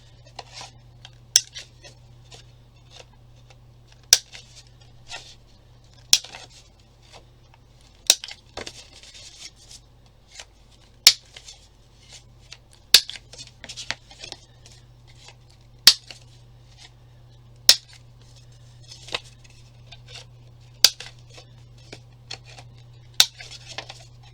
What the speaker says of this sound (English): I am going to round my corners because I can